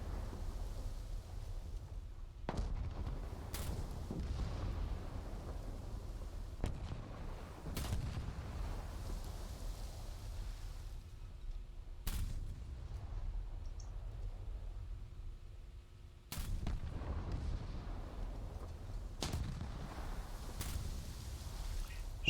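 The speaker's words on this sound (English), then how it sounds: "They need to stay firing a little further than they are doing." Artillery firing at a target in a video game: several sharp, isolated booms spaced several seconds apart over a low steady rumble, moderately loud and distant-sounding.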